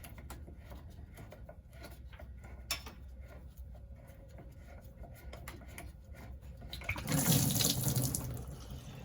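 Fluid draining from a 4th gen Cummins truck, a steady close trickle and splash that surges into a louder gush near the end.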